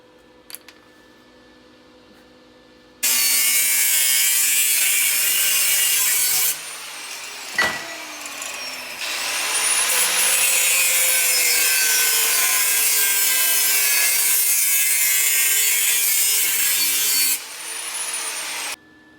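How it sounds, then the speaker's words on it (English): Steel legs for a propane tank rocket stove being cut with a power saw, a loud sustained grinding rasp that runs in long bursts with a brief pause midway, close and alone with no talk. "now I cut the legs and I bent them at 35 degrees"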